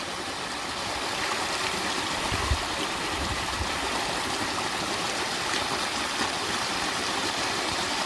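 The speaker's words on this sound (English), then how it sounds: "I'm just letting the water take the light stuff off." Water washes steadily over light sand in a gold prospecting pan, a continuous close rushing and trickling wash with no break.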